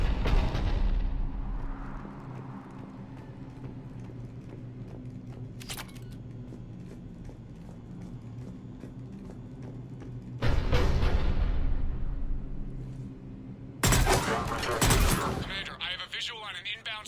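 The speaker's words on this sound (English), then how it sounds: "The cannon fire is clearing the way." Cannon fire and gunfire in Mass Effect 3 on Tuchanka: several heavy booming blasts with broad crackling bursts, separated by a low rumbling drone, loud and close.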